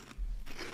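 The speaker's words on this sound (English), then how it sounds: "Again, Funyuns, they got the crunch down." Crunching Maruchan hot and spicy chicken ramen Funyuns, two quick crisp bites of the snack, close and fairly quiet, with no talking.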